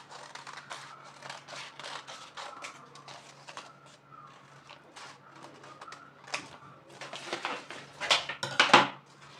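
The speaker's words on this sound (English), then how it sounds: "I will now go ahead to cut this out" Scissors cut fabric for a flare dress, giving soft, close snips and rustling that grow busier and louder toward the end.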